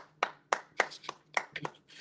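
A small group claps hands together in a loose, uneven rhythm during a scripture class, about nine sharp, close claps spaced across two seconds with faint hum underneath.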